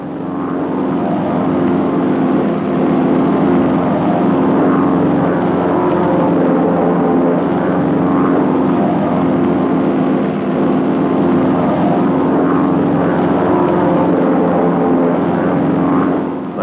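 North American Aviation T6 propeller planes flying in formation give off a loud, steady, droning engine roar with a throbbing tone that holds unbroken and close throughout, with no voices.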